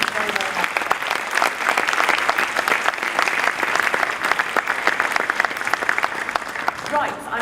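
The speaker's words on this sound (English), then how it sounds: "so a warm round of applause" Conference audience applauding steadily for about seven seconds, a dense, even wash of clapping from a large room with faint voices mixed in near the end.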